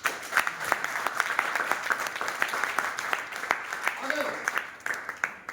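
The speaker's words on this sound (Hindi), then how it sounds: "जोरदार तालियां होंगी" Clapping crowd at a company income presentation, dense sustained applause with sharp claps throughout, fairly close and steady for several seconds.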